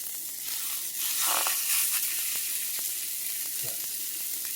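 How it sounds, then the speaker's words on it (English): Ground turkey and mushroom burger patties sizzle steadily in a hot pan, a continuous close frying crackle with a few sharper pops and faint scrapes along the way, no voices. "So we're going to let those cook a bit on each side."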